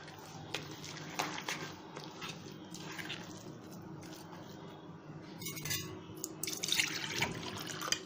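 Tap water runs and splashes into a bowl for a besan and rava chilla batter, a steady near faucet stream with clinks of glass or utensils and short drips, no talking.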